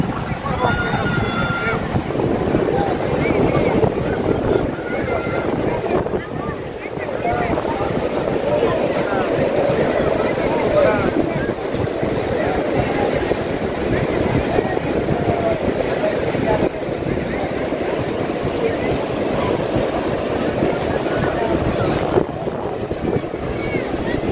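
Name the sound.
sea waves on Cox's Bazar beach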